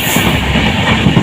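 A passenger train runs at good speed through the Dooars countryside, a loud steady rumble with faint rhythmic clatter of wheels on the rails throughout, no voices.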